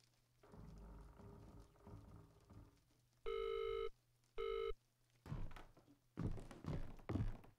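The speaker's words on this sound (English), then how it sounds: "Dial tone." Two short electronic telephone tones sound in the horror game Visage between dull thunks and handling knocks of a handset. Low hum and clattering surround the beeps.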